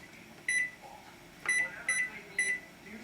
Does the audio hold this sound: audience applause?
no